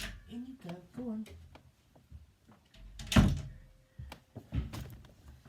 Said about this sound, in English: I'm going to have to open the door to let my cat into the other room